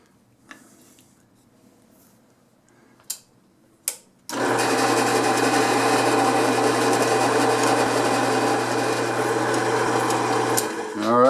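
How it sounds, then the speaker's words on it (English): Drill press boring into a sight base for a Winchester model 1885 rifle: a few faint clicks and knocks, then the machine starts and runs with a loud, steady mechanical whine and grinding hum to the end. "So we're all set up in the drill press"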